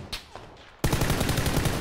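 A big gun in the battle royale game PUBG fires a loud burst of rapid automatic shots that starts suddenly and keeps going. Faint thuds come before it.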